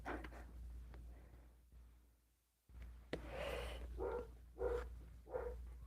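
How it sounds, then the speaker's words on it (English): Dogs barking downstairs in a home, heard faintly and muffled through the floor as several short barks late in the clip over a steady low electrical hum. "I'm sorry for the dogs barking"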